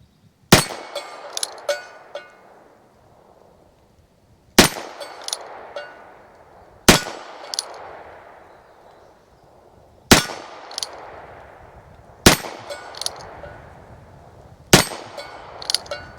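Six sharp, loud gunshots from a Ruger Super Wrangler .22 Magnum revolver firing 40 grain Aguila round nose rounds, spaced a couple of seconds apart, each followed by a brief ringing decay and faint after-clinks.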